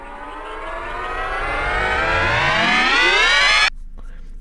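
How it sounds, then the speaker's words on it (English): Rising synth riser effect in a trap beat intro, a loud sweeping tone climbing steadily in pitch and volume for several seconds before cutting off abruptly into a quieter tail. "I did like some effects, like this riser thing."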